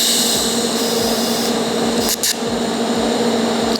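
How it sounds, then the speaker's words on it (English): Welding a metal wheel carrier, a continuous hissing, crackling arc held steady with a faint steady hum underneath and one brief interruption partway through. "I'll tack the other side and then I'll weld around"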